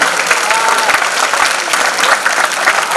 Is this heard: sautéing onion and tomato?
no